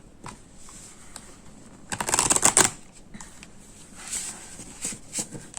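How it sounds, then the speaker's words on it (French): A deck of thick, fairly stiff oracle cards is shuffled by hand, giving a quick burst of crisp flapping card clicks amid scattered lighter taps and rustles. "je vais montrer comment se mélange le deck"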